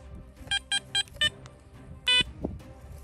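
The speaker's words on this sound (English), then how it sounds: "Metal detector is receiving a very strong signal." A metal detector gives four short, evenly spaced electronic beeps followed by a longer, stronger tone on a strong signal, heard close and clear over faint outdoor background sounds.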